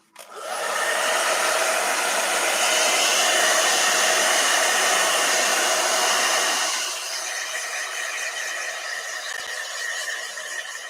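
A blow dryer whirs loudly and steadily for about seven seconds, then settles into a quieter, thinner hum that continues to the end, close by with no voices.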